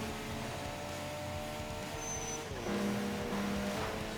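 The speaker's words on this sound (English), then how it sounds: "I keep sitting on the rev limiter" A racing car's engine in the video game TXR holds at the rev limiter, its tone climbing steadily, then drops and bounces in a choppy, stuttering buzz near the end. The drone stays loud and continuous throughout.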